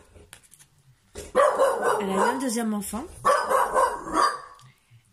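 A dog barks and yelps repeatedly in the background while someone speaks French over it, the barking mixed in with and partly masked by her voice.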